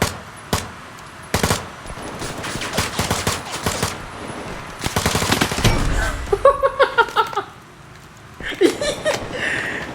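Rapid bursts of game gunfire crackle in clusters, loud and close, with brief pauses between volleys and a few short tonal effects near the end.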